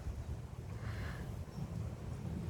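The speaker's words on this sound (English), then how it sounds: "It's getting blown around here. It's a windy day in the heart of the Empire." Wind rumbles against the microphone in a low, continuous buffeting, fairly quiet and without speech.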